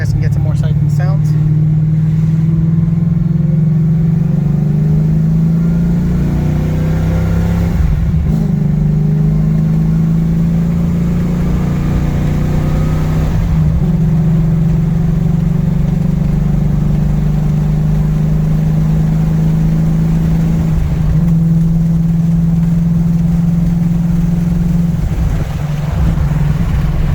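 Ford Mustang with a Gen 3 Stage 3 transmission driving with the windows down, a steady low engine drone and road noise throughout with slight shifts in pitch, while people talk over it.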